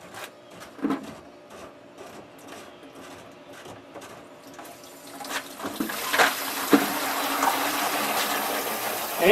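Dirty DE water drains from a pool filter's opened drain valve into a small pail, a steady splashing flow that starts quiet and grows louder and fuller after the midpoint, with no talk.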